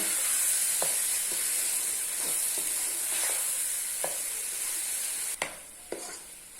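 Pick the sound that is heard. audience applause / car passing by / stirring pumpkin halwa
stirring pumpkin halwa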